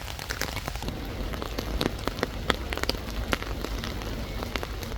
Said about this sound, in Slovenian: še vedno dež pada